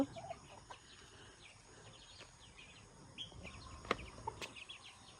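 Chickens in a village yard cluck softly and intermittently at a distance, with a few sharper calls and chirps rising over faint outdoor ambience.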